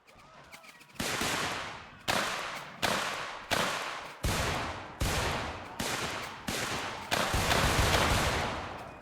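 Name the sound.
rifle gunfire in video game Mount & Blade Warband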